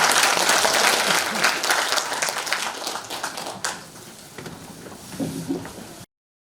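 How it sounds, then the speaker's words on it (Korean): An audience gives a professor a big round of applause at a Korean academic conference on Choe Chiwon's thought, dense clapping that gradually thins and fades out after about six seconds, with brief murmurs near the end. "다시 한번 큰 박수 좀 부탁드립니다"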